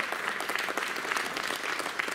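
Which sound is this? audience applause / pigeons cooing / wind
audience applause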